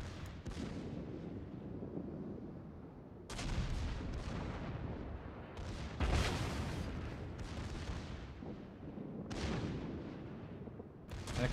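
Secondary guns of the battleship Mikasa firing in World of Warships, a series of deep booming salvos at irregular intervals over a low rumbling background.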